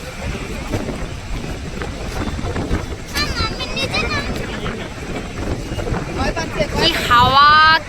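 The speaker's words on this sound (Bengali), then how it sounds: "কি হাওয়া" Wind buffets steadily over a boat out on the water, a constant broadband rush with people talking throughout and a brief high whistling tone near the end.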